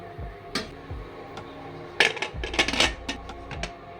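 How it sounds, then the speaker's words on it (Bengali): A metal pressure cooker lid being closed over vegetable stew: scattered metallic clinks and scrapes, with a denser cluster of clattering knocks in the middle, fairly close and with no one talking. "এবার আমি এটা ঢাকনাটা বন্ধ করে দেবো"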